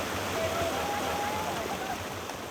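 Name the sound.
rushing river water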